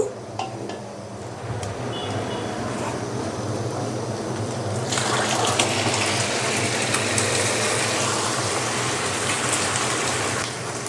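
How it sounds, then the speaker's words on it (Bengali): Cooked beef in gravy is poured from a pot into rice for beef biryani, giving a continuous wet sloshing and gushing that thickens and grows louder partway through, with no talk. "বন্ধুরা এখন আমি মাংসটা চাউলের মধ্যে ঢেলে দেব।"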